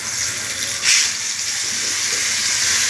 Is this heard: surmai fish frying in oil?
yes